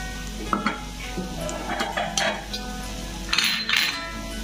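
A honey mixture for bol pithe is stirred in a pan, with soft scraping and occasional clinks of a utensil against metal and a faint sizzle underneath, close and quiet, no talk.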